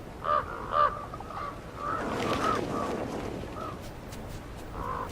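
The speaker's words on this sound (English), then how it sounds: "Ravens are the first to discover a carcass." Ravens at a bison carcass give a few hoarse caws, two clear ones close together early on and then more scattered calls over a steady windy background.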